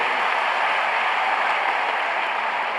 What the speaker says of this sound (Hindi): एक बार जोरदार तालियां हमारे स्वच्छता प्रहरियों के लिए